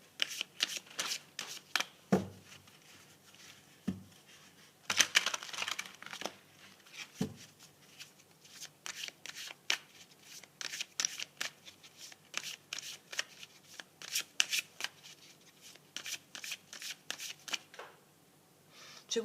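Tarot cards are shuffled by hand in a quiet room, producing repeated crisp riffling and slapping bursts at close range, irregular in rhythm, with soft papery rustles between them.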